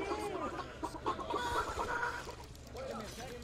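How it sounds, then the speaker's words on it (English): Chicken clucking and squawking from the Killing Floor video game, a busy run of close, bright clucks and calls with a few louder bursts and some low background noise. "The chicken noises."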